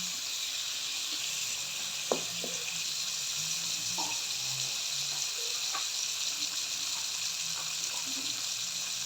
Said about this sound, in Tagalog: Tapos, lagyan ko na rin yan ng tubig.